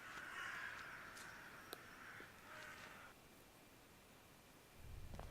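A few crows caw in the dark adventure game The Last Door, faint harsh calls spread over several seconds above a soft windy hiss, ending with a low rumble.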